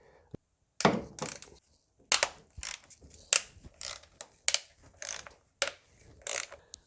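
A ratchet removes valve cover bolts on a Mercedes W220 S320 V6, with short bursts of quick metallic clicking repeated about a dozen times, close and crisp with brief pauses between strokes.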